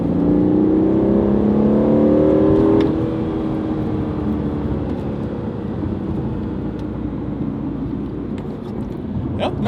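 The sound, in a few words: Aston Martin with twin turbo V8 accelerating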